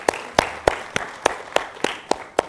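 Sparse, slow clapping at a Rotary and IIMBAA education event, roughly nine separate sharp claps spaced evenly over a couple of seconds, sounding like only one or a few people applauding rather than a full crowd.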